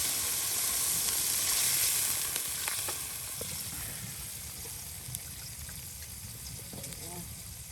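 Onions frying in a pan with a splash of water over a clay stove outdoors beside a wetland, a steady sizzle that is louder at first and then settles, with speech faintly underneath.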